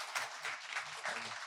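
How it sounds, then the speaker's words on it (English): Faint, distant audience clapping at a poetry event in a public library, a short soft burst with uneven pulses. "Let's give her a big round of applause,"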